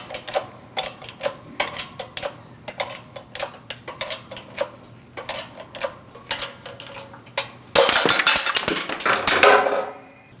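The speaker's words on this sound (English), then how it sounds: "now you're going to set up your press so that you have something here to press the bearing out of" Press pushing a wheel bearing out of a 2002-2006 Toyota Camry steering knuckle: irregular metallic ticks and clicks at close range, ending in a louder burst of grinding scrape.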